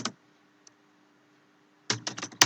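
Close, crisp keystrokes on a computer keyboard come in two short bursts of rapid typing separated by a quiet pause.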